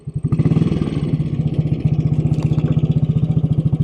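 A 1957 Royal Enfield Bullet 500 single-cylinder engine thumps close and loud in first gear, a fast, even, pulsing beat that holds steady throughout with a slight mechanical clatter over it.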